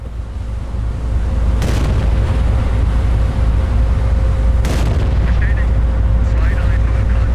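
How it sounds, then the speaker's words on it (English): High-explosive naval gunfire from the game Battleship Command booms twice, loud and spaced several seconds apart, over a steady low rumble of engine and sea ambience. "High explosive rounds going in."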